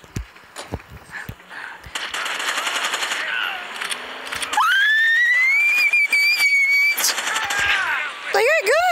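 Video game gunfire rattles in rapid automatic bursts with scattered single shots, joined by a rising whistling squeal and cut by brief voices, loud and close.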